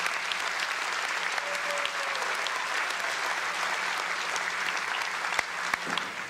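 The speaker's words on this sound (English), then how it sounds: "Please join me in a round of applause for Gene Montgomery and the IVCC Wind Ensemble." Warm, sustained applause from a community college graduation crowd for the conductor and the IVCC Wind Ensemble, even and steady with a few sharper individual claps near the end.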